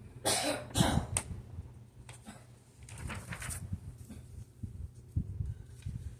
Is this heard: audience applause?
no